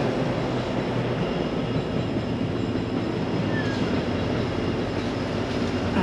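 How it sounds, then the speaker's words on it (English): Train rolling past nearby, a steady loud rumble of rail cars with faint wheel squeal and clatter running continuously, with no voices. "I see a train there."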